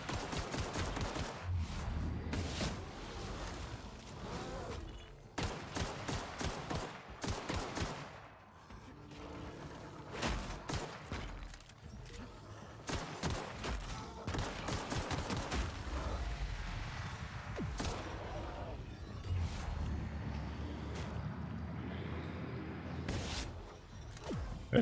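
Pistol gunfire in the sci-fi role-playing game The Outer Worlds: a long stretch of repeated sharp shots, some clustered in quick runs, others spaced apart, with faint talk at times.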